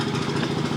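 A Mazda Miata engine idles steadily close by, a continuous low rumble with a rough, even pulse that hints at worn exhaust, and no other sound over it.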